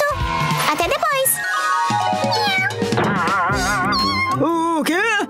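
Cat meowing repeatedly in long, wavering cries, loud and close, mixed with bright melodic background music and no clear speech.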